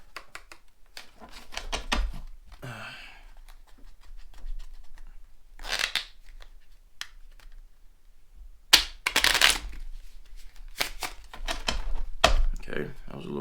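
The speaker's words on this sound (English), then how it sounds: "Step 1, break cards in." A new deck of playing cards being broken in inside an abandoned fire lookout, with crisp riffling bursts and sharp snapping flicks at irregular intervals, loud and close, with a voice talking in between.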